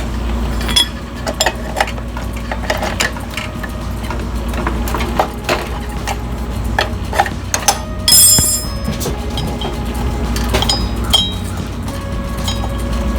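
A wrench turns a 24mm socket on the blade bolt of a walk-behind gas edger, giving repeated metallic clinks, ratcheting clicks and scraping knocks close by, with no talking.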